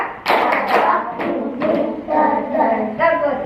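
Schoolchildren in a classroom clap along in a counting clap game, with a few sharp, close claps at the start followed by the children's chanting voices.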